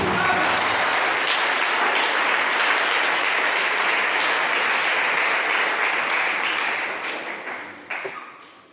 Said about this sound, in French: Applaudis pour lui.